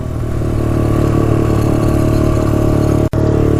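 A Honda ATC 200X three-wheeler engine runs steadily nearby with a buzzing, slightly high idle, holding an even drone with one brief cut near the end.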